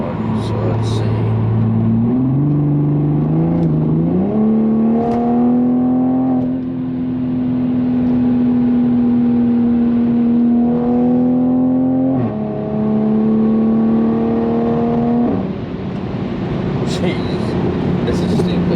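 A Toyota Supra's engine revs loud and close while its tires spin without grip, the pitch climbing in steps and holding at a steady high whine before it drops back off.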